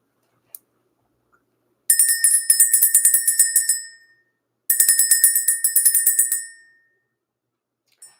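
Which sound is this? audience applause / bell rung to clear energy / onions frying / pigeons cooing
bell rung to clear energy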